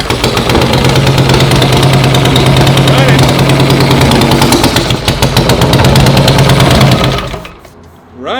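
A rebuilt, previously totaled Harley-Davidson motorcycle engine sputters and runs roughly, loud and close, with a fast uneven beat for about seven seconds before dying away; voices talk over it.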